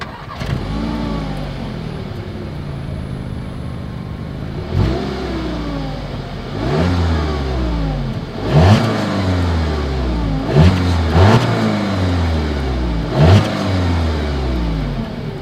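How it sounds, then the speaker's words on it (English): Revving from a 2020 Audi A3 with all-wheel drive and dual exhaust, a steady idle broken by several sharp throttle blips that rise and fall, close and loud with no talking. "As always, here is that exhaust clip."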